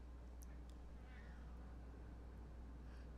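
A pet cat meows a few times, sounding upset, faint and distant above a steady low hum.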